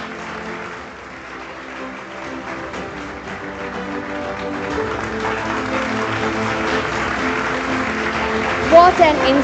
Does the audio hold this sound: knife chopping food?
no